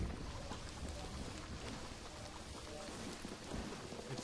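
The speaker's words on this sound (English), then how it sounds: "Raining all over the world tonight." Steady rain falls in the Mind Over Magic video game, a soft, even hiss of droplets with faint low rumbles, quiet and continuous with no talk.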